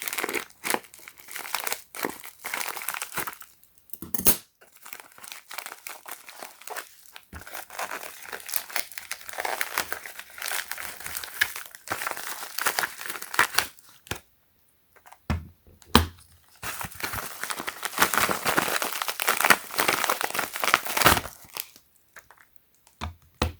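Plastic packaging of an EBL AA/AAA battery charger kit with a clear hard case is cut open and unwrapped, giving bursts of crinkling, tearing and rustling broken up by short quiet pauses.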